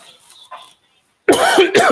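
A man gives a loud, close cough that breaks into two harsh bursts, after a faint murmur and a brief moment of silence.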